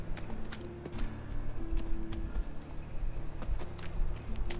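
Horse hooves clip-clop at a steady walking pace in The Witcher 3: Wild Hunt, a continuous rhythmic patter of hoofbeats close by over a low ambient game hum, with no talk.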